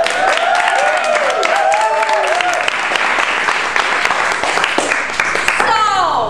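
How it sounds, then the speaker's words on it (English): An audience at a surprise baby shower breaks into warm, continuous clapping and cheering close by, with voices and a child calling out over the applause. "please, let's welcome her with a spot of applause"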